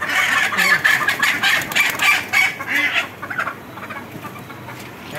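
Country chickens at a poultry seller's stall cluck and squawk close by in a busy, overlapping chorus for several seconds, then grow quieter toward the end.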